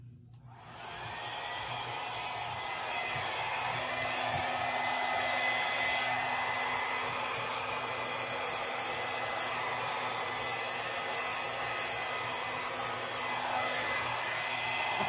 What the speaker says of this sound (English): I'm gonna blow it out a lot more than I normally would